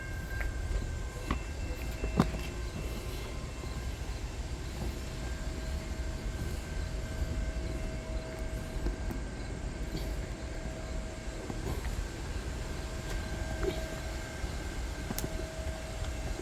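A westbound train rumbles past at a distance near Lapeer, a steady low roar with faint rail clatter and occasional metallic squeals, heard alone without voices.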